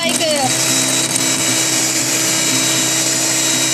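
A blender churns homemade white butter at high fifth speed, a loud, continuous motor whine with some churning texture and a faint voice underneath.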